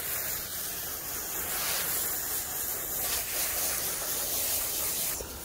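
Water sprayed from a hose over a freshly built garden bed made from a file cabinet and topped with compost and manure, a steady broad hiss running continuously and fairly loud throughout.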